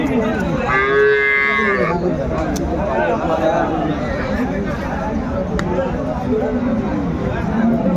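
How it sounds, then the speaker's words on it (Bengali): A cow mooing at the Aftabganj cattle market, where cows are sold with their calves. One clear, drawn-out moo rises close by over constant crowd chatter and the babble of people talking. "গাভী বাছুর আমি দেখছি বেশ সুন্দর কোয়ালিটির"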